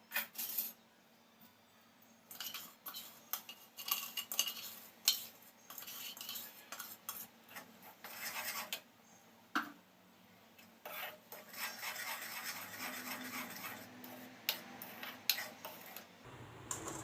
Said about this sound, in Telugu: కంటిన్యూస్గా దీన్ని ఇలా కలుపుతూనే ఉండాలి